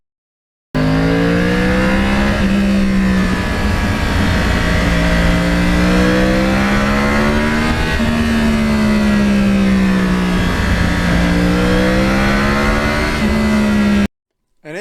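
A Yamaha R1 crossplane motorcycle engine revs loud and close, a continuous rough snarl whose pitch swells and falls in repeated waves, alone without talk.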